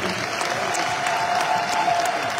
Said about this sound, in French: vos applaudissements pour la représentation du ballet national